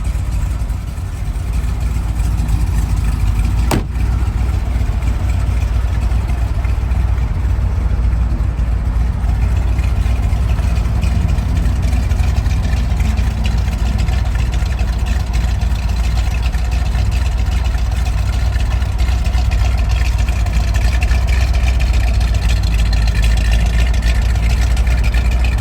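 A 1964 Chevrolet Corvette coupe with a 327 cubic-inch 365-horsepower V8 and four-speed manual idles steadily, its exhaust a loud, deep, continuous rumble close by, with no voices.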